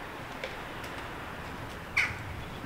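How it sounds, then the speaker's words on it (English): Ravens calling from the treetops above in Whitehouse Woods near Lamlash on the Isle of Arran, with a few scattered faint croaks and one louder harsh call near the end over quiet woodland ambience. "the ravens, there's quite a few of them above my head now"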